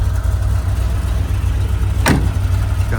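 A 1968 Chevrolet Corvette L79 roadster with a 327 V8 runs steadily at idle, a loud, close, even low rumble with one brief sharper burst near the end and no talking.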